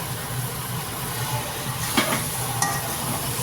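Pre-fried chicken pieces going into a kadai of masala that has released its oil and is catching at the bottom, a continuous low sizzle with a couple of sharp scraping or clattering hits, no talking.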